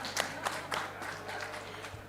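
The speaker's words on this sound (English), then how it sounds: "So we hope, yeah, we can clap it." A small audience at a session in the Indonesia Pavilion at COP 27 gives a few sparse, quiet handclaps in an uneven rhythm, with room tone underneath.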